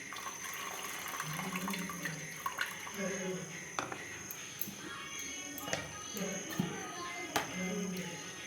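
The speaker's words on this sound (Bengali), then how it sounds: "তো এই যে চালটা আমার ধোয়া হয়ে গেছে" Rice is washed under a running kitchen tap: a steady, faint rush of water with light splashes and occasional knocks, while someone talks over it.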